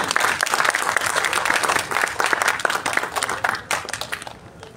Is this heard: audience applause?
yes